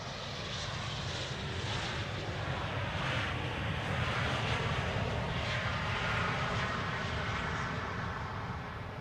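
A KLM Cityhopper aircraft on flight 1056 arrives at Amsterdam Schiphol, a continuous broad engine roar at moderate distance, sustained and even throughout.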